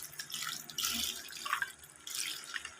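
Water splashes and trickles over coins being washed after tumbling in sand with powder soap, in short uneven pours with dripping between them, close and fairly quiet.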